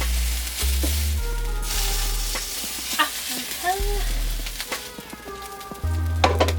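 Dumpling pieces with meat and chive filling frying in a pan, a steady sizzle with scraping and stirring noises from a utensil against the pan, plus a low background hum.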